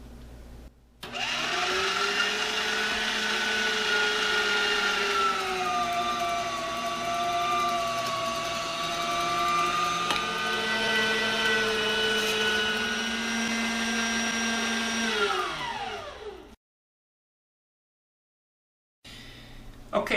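An electric meat grinder chews through cubed javelina meat for summer sausage, a steady loud motor whine with shifting pitch that runs about fifteen seconds, then cuts off into silence before a brief noise at the end.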